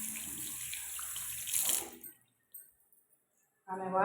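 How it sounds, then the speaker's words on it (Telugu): A pressed hand spray used for washing sends water out in a hissing rush that swells and then cuts off, followed by short spurts and a final burst, heard close in a quiet room. "ఇంత ప్రెస్సింగ్ ఉంటే వాటర్ ఫ్లో."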